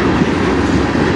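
A CN freight train rolls steadily past at close range on the Strathroy Subdivision, an old city rail car among its cars, with a continuous loud rumble and a faint rhythmic clatter of wheels.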